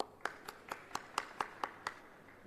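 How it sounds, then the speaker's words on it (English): Sparse, faint clapping at a safety conference, roughly nine distinct claps in an even rhythm as a speaker is welcomed to the stage. "With a round of applause, please let's welcome Mr. P."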